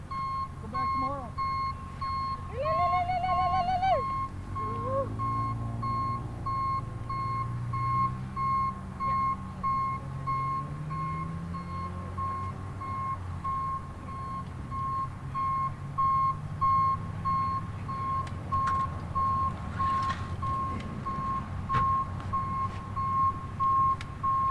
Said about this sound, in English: Oh, they're going to bring in the tow truck for the boat